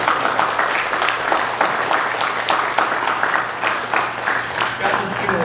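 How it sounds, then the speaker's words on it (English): A crowd honoring WWII veterans receiving Congressional Gold Medals gives a sustained round of applause, with individual claps standing out in an uneven rhythm and a low steady hum beneath. "How about another big round of applause for our recipients"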